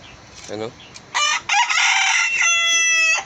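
A bantam rooster crows loudly and close, a long drawn-out call, preceded by a brief cluck and soft background sounds.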